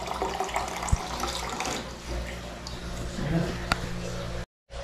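Water runs steadily from a tap in a home kitchen during cooking prep, a continuous broadband splash filling most of the clip before cutting off abruptly near the end.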